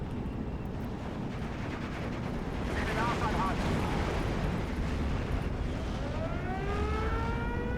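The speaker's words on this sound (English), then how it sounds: "And here come all the mortars." Mortars and bombs exploding during a Steel Division 2 battle, a dense continuous rumble of blasts and battlefield noise with aircraft-like whining tones near the end, talk heard over it.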